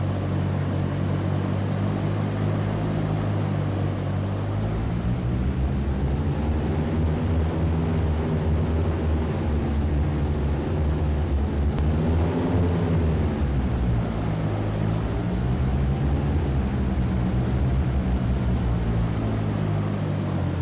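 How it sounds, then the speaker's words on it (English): Single-engine aircraft on final approach into Courchevel's steep mountain altiport, its steady propeller drone swelling and easing repeatedly as power is adjusted, loud and close throughout with no talking. "let's just pay attention to the power adjustments. There's going to be a lot of power adjustments."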